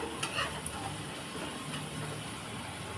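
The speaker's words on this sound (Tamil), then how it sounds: "தக்காளி வெங்காயம்லாம் ஓரளவுக்கு நல்லா வதங்கினாலே போதும்." Tomatoes and onions sauté in a pan for chicken kurma, giving a steady, soft sizzle with a few faint stirring scrapes near the start, close by and moderately quiet with no voices.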